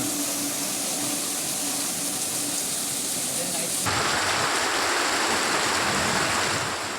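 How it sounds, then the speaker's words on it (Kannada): Rainwater rushes through flooded streets in Jamkhandi, Bagalkote, during heavy rain, a loud, continuous broadband wash of water that grows brighter and harsher partway through. "ಯಾವ ರೀತಿ ರಸ್ತೆಗಳಲ್ಲಿ ನೀರು ಹರಿತಾ ಇದೆ ಅಂತ"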